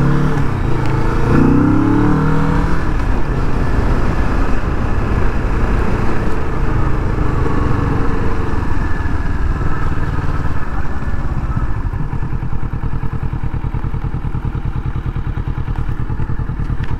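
A motorcycle engine runs steadily and loudly up close, a rough throbbing rumble with clattering and a revving swell early on, settling into an even idle before the rider switches it off; no one speaks.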